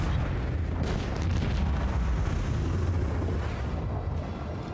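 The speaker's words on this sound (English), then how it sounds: "Alright, fire. Macro cannons." Macro cannons firing from a starship in Warhammer 40,000: Rogue Trader, a dense continuous roar of rumbling blasts and booms, loud and sustained throughout.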